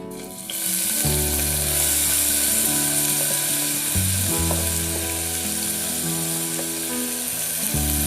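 Finely chopped small onions, about ten, frying in hot oil with bay leaf, cinnamon and cloves for a village-style mutton curry, a loud continuous sizzle that starts abruptly, alongside a steady mechanical droning hum.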